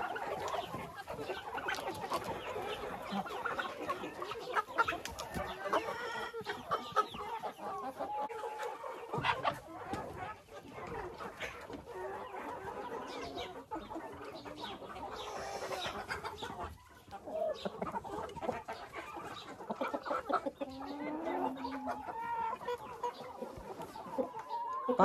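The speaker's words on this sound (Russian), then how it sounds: "Эти цыплята тоже хотят картошку." Chickens cluck steadily in a henhouse, with many overlapping clucks and murmurs from the flock and an occasional faint crow, continuous and fairly close throughout.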